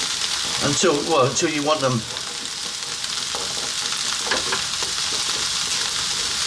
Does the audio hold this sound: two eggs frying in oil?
yes